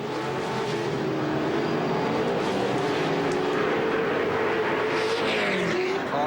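Off-road race trucks roaring around the CORR Las Vegas track, engines loud and sustained with shifting pitch as several vehicles race close together.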